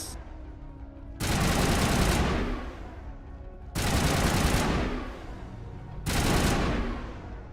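Three long bursts of sustained automatic gunfire roar loud and close in a Mass Effect firefight, each lasting about a second and separated by short gaps of quieter ambient background.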